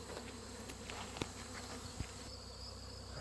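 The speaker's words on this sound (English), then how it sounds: "there's a lot of bees coming back and they're tired" A low, steady hum of many honey bees buzzing around hives in a bee yard on a hot day, with a couple of faint clicks and no talking.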